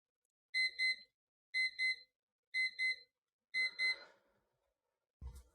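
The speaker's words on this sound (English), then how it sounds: "That was the timer" A timer alarm goes off in a quiet room: four evenly spaced bursts of high double beeps, clear and fairly close, ending with a brief thump.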